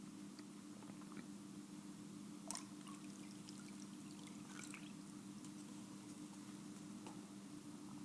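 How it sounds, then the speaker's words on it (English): Warm and cold water poured into a small divided tank, one side tinted with dissolved instant coffee; a faint, steady trickle and splash with occasional drips over a low background hum, no voices. "I'm going to add some warm water to this side and some cold to this side."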